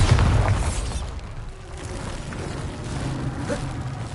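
A Bombarda spell blast in Hogwarts Legacy on PS5, a loud low boom at the start that rumbles and fades into steady game noise.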